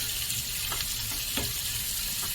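Onions frying in a pan for a steak topping with mushrooms, giving a steady, even sizzle with a few faint stirring scrapes, close and unbroken.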